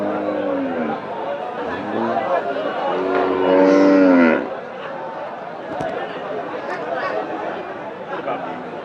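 Cattle moo loudly several times amid a busy crowd at a livestock market, with people chattering and calling throughout in an open, noisy setting.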